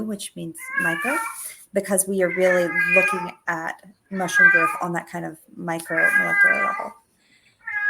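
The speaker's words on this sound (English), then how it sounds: "There is a very emotionally needy cat somewhere in someone's house." A needy house cat meows repeatedly indoors, its cries rising and falling in close, clear bursts that overlap a person talking.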